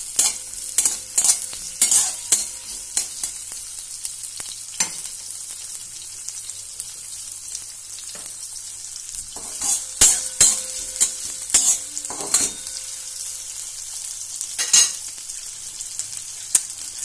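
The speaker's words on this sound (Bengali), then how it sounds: "নেড়ে নেবো একটু।" Fried rice with egg being stirred in a pan, the spatula striking and scraping in irregular bursts over a faint sizzle, loud and close, with no speech.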